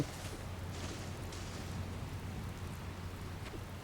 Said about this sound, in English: Seeing all this rain makes me feel wet.